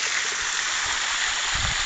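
Water pours continuously from a farm water tank outlet, a loud, close broadband rush with low splashing thumps underneath.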